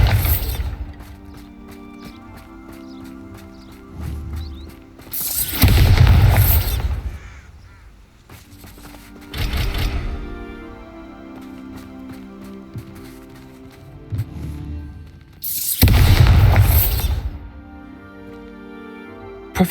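Explosive blasts of the Bombarda spell in the video game Hogwarts Legacy, two heavy booming bursts about ten seconds apart over a low, creaking mechanical game ambience.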